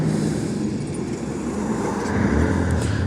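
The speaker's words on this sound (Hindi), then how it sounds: "चलिए गाड़ी को दोबारा स्टार्ट कर लेते हैं।" A 2022 TVS Apache RTR 160 4V motorcycle engine runs with a steady low rumble that swells slightly toward the end, heard close up with no voices.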